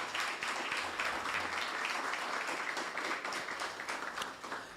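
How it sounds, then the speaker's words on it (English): An audience at a student internship programme closing ceremony applauds steadily and continuously, a dense wash of clapping that holds at an even level and tapers slightly at the end. "Give the director another round of applause."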